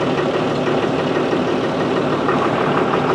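An old engine with suspected cam, ring and carburetor problems idles just after two of its valves were tightened, giving a loud, steady, close rumble with an uneven knocking rhythm and no talk.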